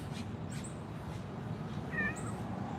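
A pregnant stray cat meowing, a few short mewing calls spaced across a quiet background with faint room noise, moderately close.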